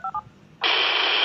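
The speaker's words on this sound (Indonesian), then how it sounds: "suaranya hanya kayak sinyal generator frekuensi ya" Two short beeps from a PoC handheld radio, then a loud, steady radio tone that hums on like a frequency signal generator.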